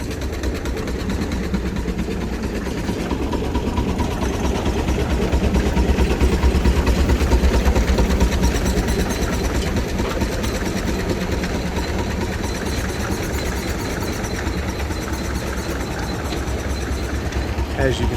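Large stationary steam engine belt-driving a sawmill through a long flat belt with a half twist, running as a steady low rumble and mechanical churn throughout, with a busy outdoor crowd murmuring around it.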